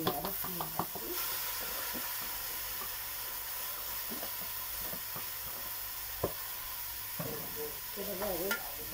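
Fish sizzles steadily in hot ghee in a pan while a utensil stirs and scrapes through it in scattered strokes. A faint voice briefly surfaces near the start and end.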